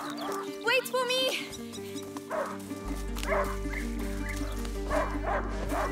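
A hunting dog in the video game A Plague Tale: Innocence gives a few yipping barks and whimpers amid game music and low ambience, close and fairly loud.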